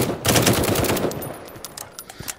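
Gunfire in a first-person shooter video game: a loud rapid burst of automatic fire lasting about a second, then fading into a handful of sparser, sharper shots and clicks.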